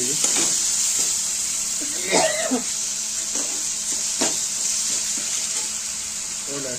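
Green chilies frying in oil for batata vada, a steady hissing sizzle close by, with a brief voice and faint clinks of stirring over the constant spatter.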